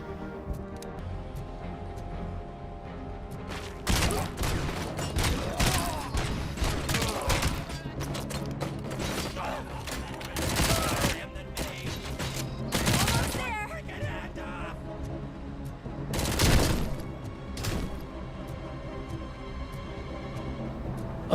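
Gunfire from the RoboCop video game, with repeated bursts of shots and sharp cracks over a mechanical background hum, the loudest hits spread irregularly through the sequence.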